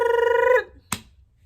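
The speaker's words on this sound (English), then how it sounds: "I get a phone call." A telephone rings loudly with one long electronic trill in a home, then cuts off, followed by a short sharp click or clatter as the call is picked up; no one speaks.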